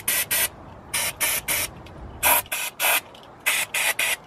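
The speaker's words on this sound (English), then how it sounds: "I'm just going to spray a bit of brake cleaner" Brake cleaner sprayed from an aerosol can onto wheel studs of a BMW, heard as eight short, loud hissing bursts in quick pairs and triplets, each about a quarter second, with no talking.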